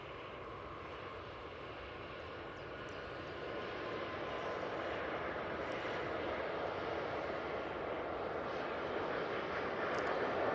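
A TUI jet on its takeoff roll at Manchester Airport for a positioning flight, a steady broad engine roar that swells gradually and holds loud and continuous to the end, with no talk over it.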